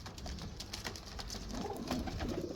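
Pigeons at a rooftop loft coo in soft, low, rolling calls that rise in the second half, partly buried under steady broadband background noise.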